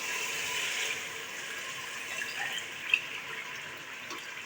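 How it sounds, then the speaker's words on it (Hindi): Water poured from two glasses into a pressure cooker pot of browned goat liver and tripe for an Eid dish, a steady rushing, splashing stream with no one talking. "अब हम इसमें 2 गिलास जो है वो पानी के शामिल करेंगे"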